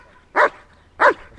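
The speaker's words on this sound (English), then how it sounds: "I think almost the dirty bite helps him bark better." A German Shepherd during training gives two sharp, loud barks about half a second apart, close by and alone.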